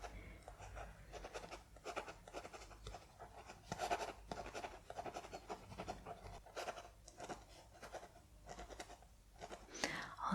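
Quill scratching on paper in a quiet ASMR roleplay setting, soft rhythmic strokes repeated closely and gently, with faint whispering in between.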